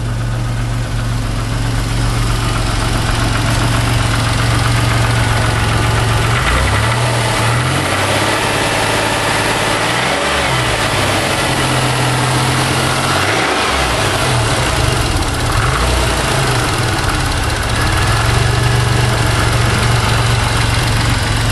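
A 1991 Chrysler LeBaron convertible with a 3.0 engine idles loudly and steadily close by after a cold start, a continuous rumble with a few brief dips and surges in engine speed, with no talking.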